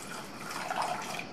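Water is poured into a pressure cooker holding soaked white peas, a steady close splashing and trickling rush with a brief gurgle in the middle, no voices.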